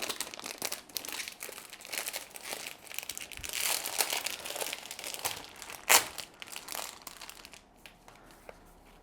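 Plastic card sleeves for a pirate-themed board game crinkle and rustle as they are unwrapped and handled up close, with a steady stream of soft crackles and one sharper crunch partway through.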